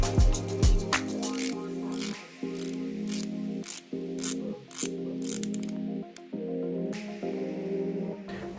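An Omega Seamaster Planet Ocean dive watch bezel turns with crisp, close ratcheting clicks, coming in several short runs of rapid clicks with brief pauses between them.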